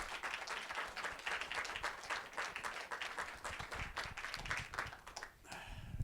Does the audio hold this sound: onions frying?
no